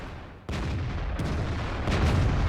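A self-propelled artillery gun fires in World of Tanks, a sudden heavy boom followed by a long rumbling roll, with further deep thuds and low continuous rumble after it.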